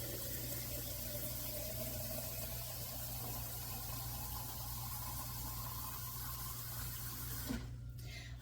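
Hot well water pours steadily in a continuous wash into a pressure canner holding jars of elk meat, with a low motor-like hum underneath and a brief clunk near the end.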